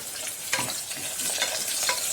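Two medium-sized onions frying and being stirred in a pan for chicken haleem, a steady close sizzle with scraping stirs of the spatula throughout.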